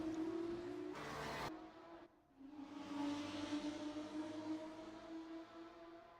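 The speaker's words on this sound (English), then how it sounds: "we'll only hear the sound of racing engines" Formula race car engines in a racing video game, a sustained high engine drone with a brief whooshing burst of a car passing near the start, then a steady whine; faint and continuous with no talking.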